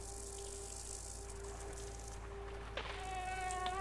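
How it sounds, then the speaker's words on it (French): Mosquito buzzing in the dark side-scrolling video game Limbo, a thin high-pitched whine holding steady over a low hum, then swelling louder and wavering as it draws near. "C'est un moustique."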